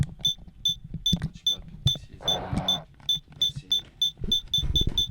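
A handheld PKE meter prop from ghost pop culture emits repeated bright electronic beeps, the rhythm shifting as its dial is turned, with a short burst of noise mid-clip and a person talking underneath.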